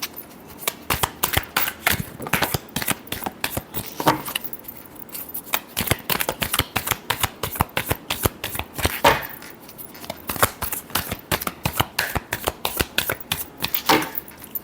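Tarot cards being shuffled by hand, a dense run of quick papery riffles and snaps that repeat steadily throughout, close and crisp, with brief pauses between bursts.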